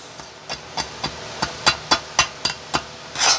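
Sharp rhythmic scraping and chipping strikes on a weld bead made with an AZZUNO 200 amp multi-process welder, about ten evenly spaced close metallic hits ending in a longer rough scrape.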